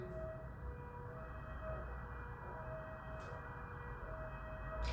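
An ambulance siren wails at a distance, a steady rising and falling tone over a low background rumble, with no voices.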